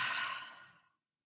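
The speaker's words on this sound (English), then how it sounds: "loud inhale and an even louder exhale" A loud, breathy exhale during a yoga bootcamp workout, one long airy rush that starts strong and fades out over about a second, heard alone.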